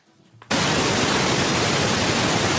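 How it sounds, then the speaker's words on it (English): Steady broadband white noise switched on abruptly after a brief quiet moment, then holding loud and constant without variation. "He got the white noise on"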